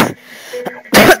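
A person coughs close into a microphone: a short burst at the start, a quiet pause, then a louder, harsher cough lasting a fraction of a second.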